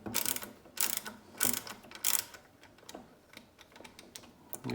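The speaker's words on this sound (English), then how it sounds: "So I'm just gonna remove this screw with a bit of care." A screw being backed out of a NOCO Boost GBX55 jump starter case, heard as close, quiet ratcheting clicks in a few short bursts, then lighter ticking as it loosens.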